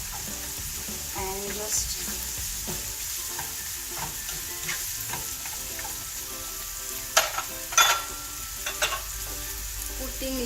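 Peanuts fry in oil in a pan for poha, a steady close sizzle broken by scraping stirs and a few louder clattering knocks, with a brief spoken phrase.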